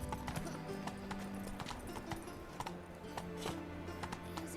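Roach, a horse in The Witcher 3 video game, gallops with steady rapid clip-clop hoofbeats up close, loud and continuous, with a brief whinny-like grunt and faint game effects mixed in.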